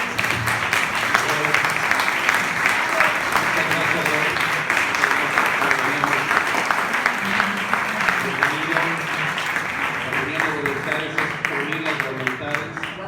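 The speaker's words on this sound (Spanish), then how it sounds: "Vamos a darle un fuerte aplauso." An audience claps loudly and steadily after a testimony talk at a Catholic gathering, a dense sustained round of applause with voices heard underneath.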